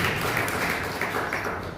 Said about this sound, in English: A round of applause for Michelle.